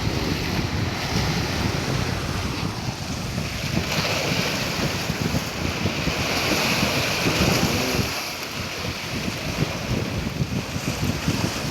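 Rough, choppy seawater surges and splashes steadily along the Dammam Corniche waterfront, a dense unbroken roar of surf mixed with heavy wind noise on the microphone, loud and close throughout with no talking.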